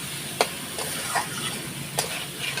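Spices and salt for a fish curry sautéing in a pan, with a soft continuous sizzle and a few quick scraping stirs of the spoon.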